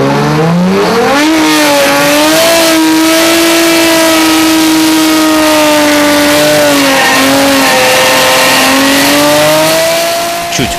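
A drag racing car engine revs loudly and close, a sustained high roar that climbs in pitch, holds, dips briefly and climbs again before easing off at the end, with no talk.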